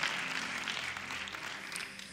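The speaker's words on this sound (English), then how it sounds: "Clap for that one." A church congregation claps during a sermon, a soft, fairly distant wash of many hands that stays even for about two seconds, with a hint of room noise underneath.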